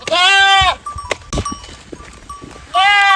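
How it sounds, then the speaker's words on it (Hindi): Goats being fed freshly cut tree branches give loud, wavering bleats at the start and end, with rustling leaves, chewing and scattered knocks in the quieter stretch between. "देखो मुनीलाल ऊपर चढ़ के भाई गिरा दिया है ताकि हमारे जितने भी बकरियां हैं भाई वो अच्छे से अपना पेट पूजा कर सकें।"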